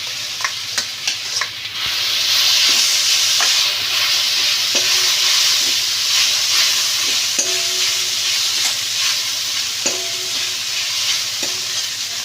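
Cooked vermicelli is tipped into a spiced pan for shevai upma and stirred, giving a loud, close hissing sizzle over faint scraping and tapping of the spoon. A few knocks come first, then the frying noise holds steady.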